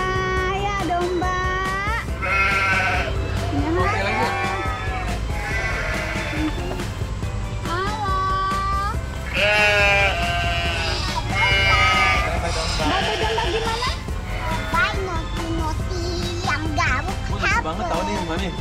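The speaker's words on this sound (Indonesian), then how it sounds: "Sekarang kita mau kasih makan lagi nih teman-teman dombanya" Sheep bleat repeatedly at close range while being fed at a pen, a mix of wavering high-pitched cries throughout, with children and an adult talking over them.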